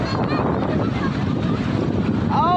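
Wind roars steadily across the microphone while someone boards a boat on open water in India, with the churn of the boat beneath. Voices can be heard faintly under the wind.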